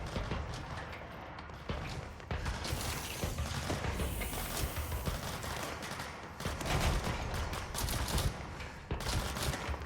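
Rapid gunfire and clattering bursts from the video game Control ring out in dense, loud volleys, layered with mechanical rattles and continuous background noise.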